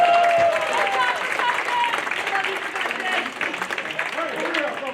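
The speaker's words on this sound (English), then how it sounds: "Give a round of applause." Audience applause at a festival-day music concert, a steady wash of clapping that fills the whole stretch at fairly close range, with some talk mixed in.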